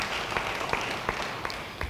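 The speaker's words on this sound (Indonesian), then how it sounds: "Yang percaya beri tepuk tangan bagi dia" Congregation applause in a church service, a dense steady patter of many hands with a few sharper claps standing out, moderately loud and continuous throughout with no talking.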